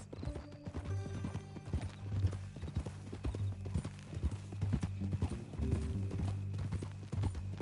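Steady clip-clop of horse hooves walking at an even pace in the video game Red Dead Redemption 2, with a low droning hum underneath.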